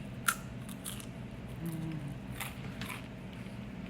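Quiet, crisp crunching from close by as crunchy baked pot pie dough is bitten and chewed, a few sharp crackles over a soft background hum.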